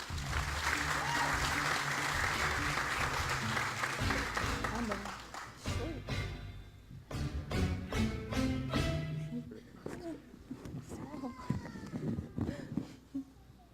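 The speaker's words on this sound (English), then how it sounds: "Please give a round of applause to these Magi from the East." A talk show audience bursts into loud, sustained applause for performers dressed as the Magi. The clapping fades after about five seconds, and scattered claps and voices carry on underneath.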